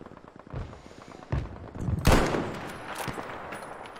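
Battlefield V gunfire crackles in several bursts, with booming shots and a louder, sharper volley near the middle, followed by more scattered reports fading into the background.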